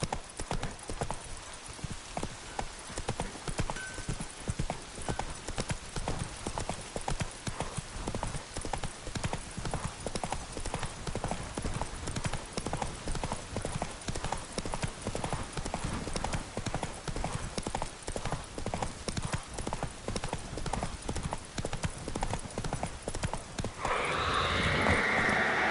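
A horse gallops in the video game Witcher 3, its rapid clip-clop hoofbeats pounding steadily and close for a long stretch, with a brief whinny and splashing near the end.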